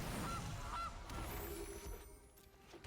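Cartoonish goose honks from a Goose card being played in the MTG Arena digital card game, two short honks near the start over busy game ambience and soft music, fairly faint.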